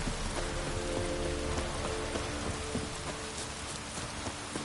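Steady rain pours down in a fantasy role-playing game world, a constant dense hiss of drops hitting surfaces with scattered sharper patters, faint and even throughout, with no voices.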